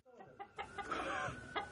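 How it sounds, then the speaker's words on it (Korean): A lone chicken left on a livestock farm clucks in a run of short, fairly close calls that rise into a louder, drawn-out squawk, with no voices over it. "농장에서는 닭 한 마리가 남았습니다"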